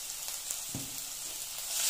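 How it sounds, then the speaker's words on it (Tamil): Onions with ginger-garlic paste and a pinch of salt sauté in a pan for Chettinad egg curry, a steady soft sizzle running throughout with a brief stir near the start, growing slightly louder at the end. "இப்போ எல்லாம் நல்லா பொன்னீரமாக வர வரைக்கும் நல்லா வணக்கிக்கலாம்"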